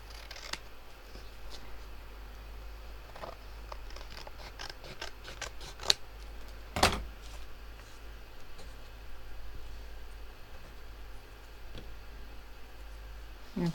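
Scissors trim paper ephemera for an altered notebook in a quiet room: a run of soft, quick snips, then a couple of sharper cuts and rustles of paper, close and faint against a low background hum.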